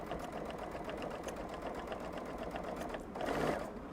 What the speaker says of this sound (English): We're just going to keep sewing all the way across here.